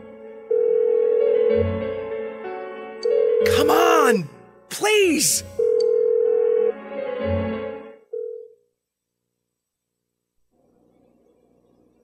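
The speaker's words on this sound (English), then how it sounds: "Why won't she pick up the phone?" A phone call rings out unanswered in Persona 4 Golden: three long, steady electronic ringback tones, each separated by a pause. A distressed voice pleads over the middle tones, and the line falls silent at the end.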